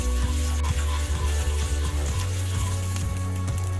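Kashmiri chili hitting hot cooking oil for shahi paneer, a steady close sizzle and crackle of frying running throughout with a low humming undertone, no one talking.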